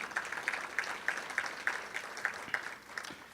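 Audience applause at a community luncheon event, a steady wash of many hands clapping with regular sharp peaks, moderately distant and fairly quiet, with no talking over it.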